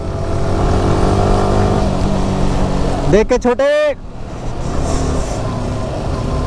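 A motorcycle rides through heavy rain near Dehradun, its engine and the wash of rain and wet road forming a continuous roar. A voice calls out briefly partway through.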